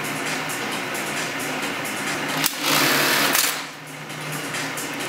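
An industrial sewing machine bar tacks the back pocket of a pair of denim jeans, with a rapid mechanical whirring and stitching chatter running continuously at close range and swelling briefly louder midway.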